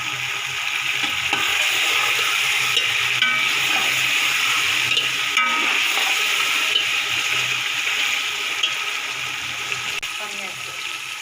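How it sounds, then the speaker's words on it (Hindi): Potatoes fry in spiced masala in a pan for an aloo pulao, giving a loud, steady sizzle with occasional scraping from stirring throughout. "आलू को हम लोगों ने अच्छे से भून लिया है।"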